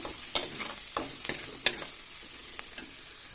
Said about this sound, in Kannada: ಹುಳ್ಳಿಕಾಳನ್ನ ಹಾಕಿದ್ದೀನಿ ಈಗ ಜಸ್ಟ್ ಸ್ವಲ್ಪ ಫ್ರೈ ಮಾಡಬೇಕಷ್ಟೇ